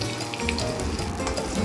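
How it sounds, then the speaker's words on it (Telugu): Bitter gourd pieces already coated with chilli powder fry on low flame in oil, a close, steady sizzle broken by scraping sounds as a ladle stirs them, with no talk. "అంటే ఫ్రై అయ్యేలా ఒక నిమిషం పాటు అలా గరిటెతో తిప్పుకొని"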